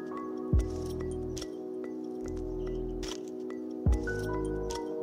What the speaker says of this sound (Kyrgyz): Биз бул жерде аябагандай жакшылап аралаштырышыбыз керек.